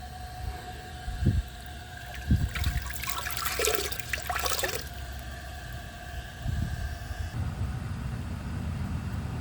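A 1981 Briggs Conserver concealed-jet toilet flushed with an overfilled tank: a thump and gurgle, then a roaring rush of water for a couple of seconds that fades into a low hissing refill under a faint tonal whine.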